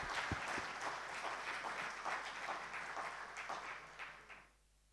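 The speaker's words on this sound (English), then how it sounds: "I do think we should give them a round of applause for their contribution" An audience at a banking summit applauds, a dense, moderately distant wash of clapping that holds steady and then fades out near the end.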